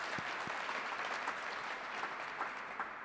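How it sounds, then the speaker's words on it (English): An audience applauds anonymous donors at a Kentucky governor's Team Kentucky briefing: a quiet, continuous patter of many hands with a few sharper claps standing out. "we can clap for them."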